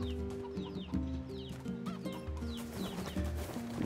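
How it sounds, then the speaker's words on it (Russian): Chickens cluck repeatedly in the video game NieR Replicant, a busy overlapping flock of short clucks and calls heard up close with no talk. "Так, курицы, вы где яйца отложили"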